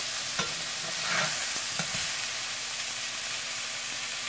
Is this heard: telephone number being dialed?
no